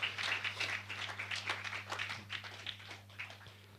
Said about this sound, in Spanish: Denle un fuerte aplauso por todos los que han venido por primera vez esta tarde